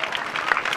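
Brief burst of crowd applause for a donor at a religious Saptaha Mahayagya gathering in Bagrapur, a steady patter of many hands clapping, moderately loud, with no talk over it.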